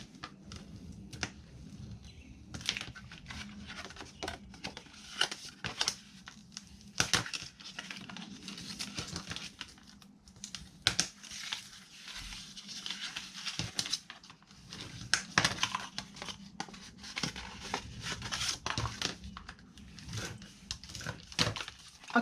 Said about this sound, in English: I am just going to go ahead and fold and burnish all of these scores with you guys